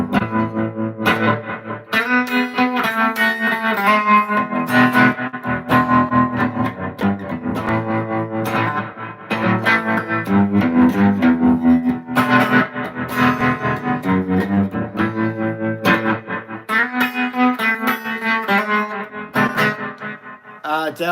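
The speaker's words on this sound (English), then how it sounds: "that's the tremolo and reverb sound" Electric guitar played through tremolo and reverb, pulsing chords with a wavering wash and lingering echo, loud and continuous throughout.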